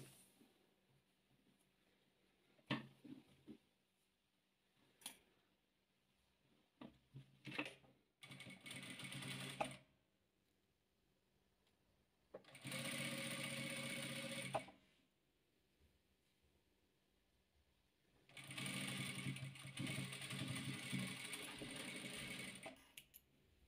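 A sewing machine stitches patchwork quilt squares into a row for a chain-pattern quilt. It runs in three loud, steady bursts of a few seconds each, with quiet clicks and fabric handling between them.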